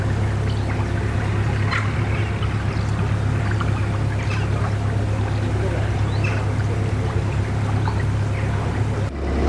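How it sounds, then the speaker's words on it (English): A narrowboat cruising the Middlewich branch canal gives a steady low engine chug that runs unbroken and fairly close, with light water and wind noise over it and no talk. "cruising along the Middlewich branch, which you know we love"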